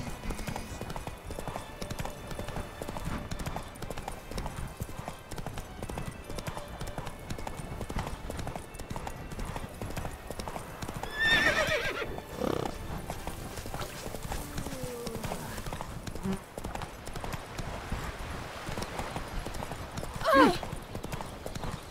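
Horse hooves clip-clop steadily through a video game scene, a continuous rhythmic patter at moderate level with brief louder moments, and a voice speaks over it.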